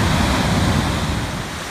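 Steady ocean surf washes onto a beach in Indonesia, a continuous broadband rush of waves with a touch of wind buffeting the microphone, fairly loud and close with no talking.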